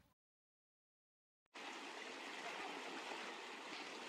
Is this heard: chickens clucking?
no